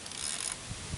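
A 24 millimeter wrench backs off a tight axle nut on a Harley motorcycle during a tire change, giving a close, brief burst of ratcheting mechanical clicks.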